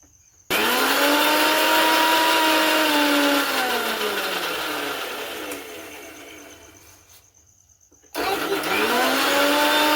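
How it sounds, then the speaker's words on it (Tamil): A loud mixer grinder beating egg whites for mayonnaise whirs steadily, its pitch sagging as it labors, then cuts off briefly before starting up again near the end. "இந்த எடுத்து வச்சிருக்கிற வெள்ளைக்கருவை முதல்ல இந்த மிக்ஸி ஜாரில் விட்டு கொஞ்சம் கொஞ்சமாக அடிக்க"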